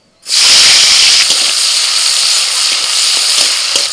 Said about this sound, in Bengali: কড়াইতে তেল দিয়ে দিয়ে দিচ্ছি আমি টমেটো কুচি